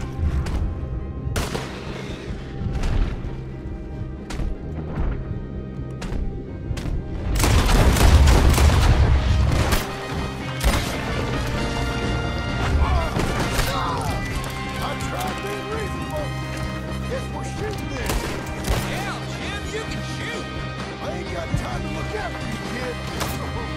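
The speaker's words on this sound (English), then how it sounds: "Just shoot him." Gunfire rings out in the Red Dead Redemption 2 epilogue, a dense burst of shots midway. Galloping horse hooves and talking voices run underneath throughout.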